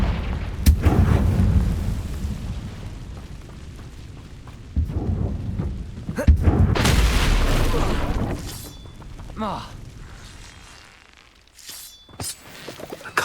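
Confringo blasting spell explosions in the video game Hogwarts Legacy: loud booming blasts with crackling, shattering debris, one early and a bigger one mid-clip, trailing rumble and scattered impacts over game ambience.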